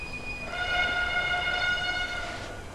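A train in Railway Empire, held near the Forth Bridge outside Edinburgh, sounds a long steady two-tone horn for about two seconds over a low rumbling rail background, loud and close, with no talking.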